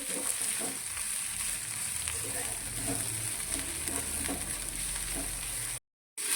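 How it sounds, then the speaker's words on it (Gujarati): Fresh fenugreek leaves sauté in oil in a kadai with a dense, even hiss and faint stirring scrapes throughout, broken by a brief dropout just before the end. "અને આ ભાજીને આપણે તેલની અંદર 2 થી 3 મિનિટ માટે સાતળી લઈશું"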